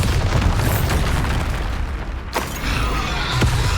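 The Bombarda spell in Hogwarts Legacy goes off as a loud, deep blast with a heavy low rumble, followed by a sharp crack and then further booming debris and rumble.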